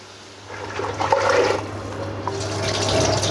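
Hot water is poured into a cooking pot of sautéed spices and onions for ghee rice, a loud gushing, splashing rush that builds and keeps flowing steadily for a few seconds with no voices.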